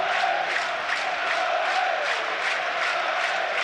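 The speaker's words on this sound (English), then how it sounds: "Norwich crowd find their voice." A football crowd at a Norwich versus Burnley match cheers and chants together, a dense, sustained roar of massed voices rising and falling in waves, heard at a steady distance throughout.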